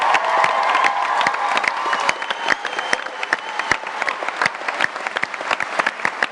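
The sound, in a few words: audience applause for singing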